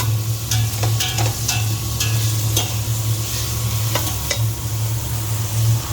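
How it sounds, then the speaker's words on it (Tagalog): Chopped liver sautés with onion and garlic in a hot pan, a loud continuous sizzle broken by a scatter of sharp spatula scrapes and clicks, with a low steady hum underneath and nobody speaking. "ngayon nilagyan ko na po ito ng atay. Gisahin po natin sa sibuyas at bawang."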